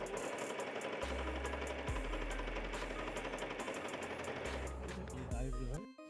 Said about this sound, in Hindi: उसके बाद आपको कपड़े को इस तरीके से सिधान में रखना होगा, फिर इसको सिलाई करेंगे